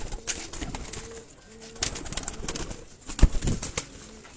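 Pigeons coo from a rooftop loft in repeated low, throaty phrases at close range, mixed with scattered wing flaps and other bird noises, with no talking.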